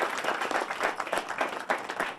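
A crowd at an apartment groundbreaking ceremony claps in a short, lively burst of applause, uneven and fairly close, with no talking over it.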